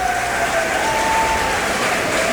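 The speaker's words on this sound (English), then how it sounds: "Art student section giving him a big applause." A student section applauds at a high school basketball game during a Thanksgiving tournament, a steady, loud, dense roar of clapping from the crowd throughout.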